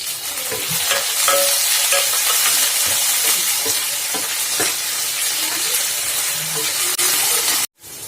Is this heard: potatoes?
yes